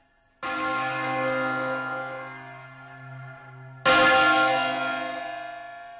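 Church bells in a village bell tower ring out, two loud strikes about three and a half seconds apart, each leaving a long, rich, slowly fading resonance.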